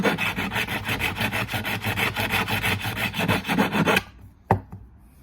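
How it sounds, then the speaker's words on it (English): A hand file rasps back and forth over a metal corner to round it off, a steady rhythmic scraping of about twenty close strokes that stops abruptly, followed by one sharp knock. "We'll give it a little rub of a file, so we're not chopping our hands up off it."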